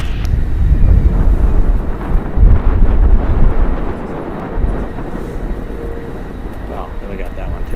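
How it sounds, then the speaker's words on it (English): Korean Air Cargo Boeing 747-8 freighter, 11 years old, taking off from runway 28 right at San Francisco International Airport; a loud, low jet engine roar rumbles steadily and fades somewhat later, buffeted by wind noise. "Korean Air Cargo Flight 214 going to be departing on runway 28 right to Seoul. It's a Boeing 747-8 freighter"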